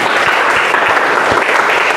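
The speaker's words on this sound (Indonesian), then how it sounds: "Oke, kalau gitu tepuk tangan dulu buat semua kelompok" A school class applauds all student groups after their presentations in an Indonesian classroom lesson, a dense, steady burst of many hands clapping at close range for about two seconds, with no clear speech over it.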